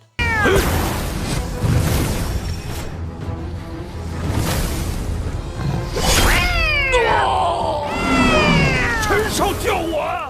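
An animated cat in a fight scene yowls and caterwauls in repeated, loud, drawn-out meows that rise and fall, with swooshing effects and a voice talking underneath.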